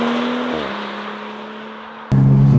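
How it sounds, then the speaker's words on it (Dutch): A 320 hp six-cylinder BMW M-performance convertible holds a steady engine note through a bend, the pitch dropping briefly before a sharp, loud surge as the throttle opens hard. "Oh, lekker flink op het gas in de bocht."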